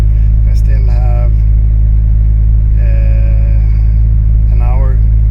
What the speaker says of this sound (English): So we are now in the Supra. It's running, we're outside, and it's time to head to the MOT.